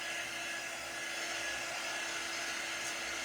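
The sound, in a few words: heat drying screen-printed ink on t-shirt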